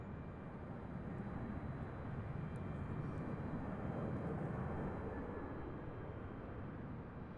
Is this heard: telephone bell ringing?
no